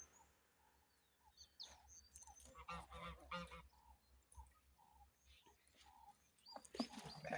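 Geese honking in repeated bursts, some loud and close, others farther off, as the flock defends its territory on a sheep farm where sheep have gotten into their maize; no talking.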